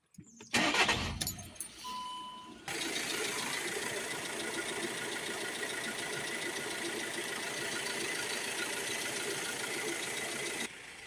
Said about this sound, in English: So I'm going to start the engine now, let it run for 5 minutes